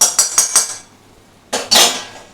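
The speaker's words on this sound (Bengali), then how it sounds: "এটা একটা থালাতে আমি ঢেলে রাখছি।" Roasted rice flour is tipped onto a metal plate, giving a quick run of four clattering metallic knocks, then a pause and two sharper clanks close by.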